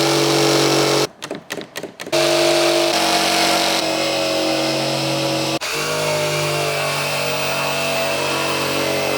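A loud jigsaw cuts wood steadily at close range, briefly stuttering in short bursts before settling into a continuous grinding whine.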